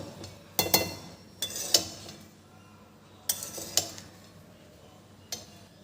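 A spoon scrapes and clinks against a pot while jeera rice is stirred, with coriander leaves scattered over it. The sharp metallic taps come in loose pairs of knocks, separated by quiet gaps.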